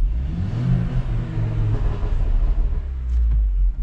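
A Mercedes GLA 250 engine revs up while parked, a close, steady rumbling drone that rises and holds, with no voices over it.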